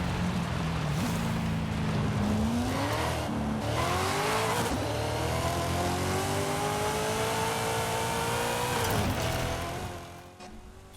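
A widebody 2019 Subaru STI S209 with a Varis widebody kit accelerating in Forza Horizon 5, its engine rising steadily in pitch through successive gear pulls, loud and close, with a brief shift dip before fading at the end.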